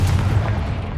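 A Confringo fire spell blast in Hogwarts Legacy, a loud deep booming burst with low rumble lasting about a second.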